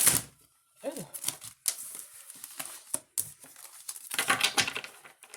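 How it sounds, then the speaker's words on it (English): Tarot cards are riffled and shuffled in quick bursts with soft papery flutters and taps, while a voice murmurs briefly between them. "let's do a couple of shuffles"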